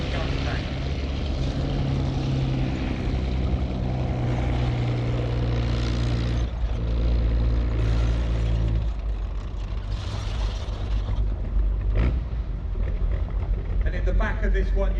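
A Centaur tank's Nuffield Liberty engine runs loud and close, a steady low rumble with tracked-vehicle clatter that rises and shifts in pitch throughout, with people talking over it.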